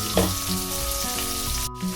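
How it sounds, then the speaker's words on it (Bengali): Hilsa fish pieces fry lightly in hot oil, a steady close sizzle running continuously with a brief crackling burst near the start. "এরকম করে আমি জাস্ট হালকা করে ভেজে নেব"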